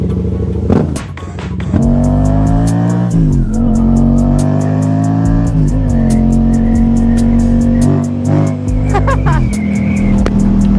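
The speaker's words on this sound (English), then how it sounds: "First ride on the new bike." A 2016 Yamaha FZ-07 motorcycle carrying a passenger pulls away, its engine revving loudly and close through several rising gear pulls with brief dips between shifts, sustained and dominant throughout.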